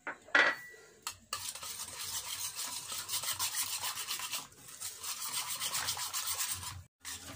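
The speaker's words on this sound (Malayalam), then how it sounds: "ഇതിലേക്ക് 1/2 കപ്പ് മൈദ എടുത്തിട്ടുണ്ട്. ഇതിലേക്ക് ചേർത്ത് ഒന്ന് നന്നായിട്ട് മിക്സ് ചെയ്തെടുക്കാം" Half a cup of maida flour worked into a halwa mixture gives a steady, gritty rasping and scraping of a spoon against a pot, close and continuous for several seconds after a brief knock, with no voices.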